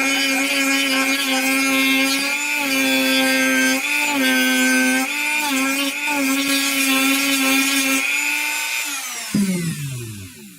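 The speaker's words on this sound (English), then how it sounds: "I'm going to finish taking off some of this cork." A power tool grinds cork off a Black Diamond Alpine Carbon Cork trekking pole handle, giving a loud, steady high-pitched motor whine with slight dips in load, then winding down toward the end.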